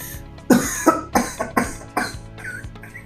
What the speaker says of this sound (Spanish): Ahora necesito que tosa fuertemente.